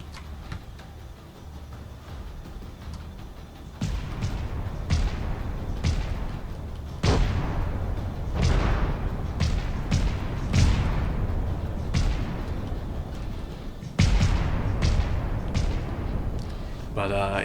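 Secondary weapons firing during a space combat battle in a video game, heavy booming shots at irregular intervals with rapid bursts in between, over a low rumble with a voice talking.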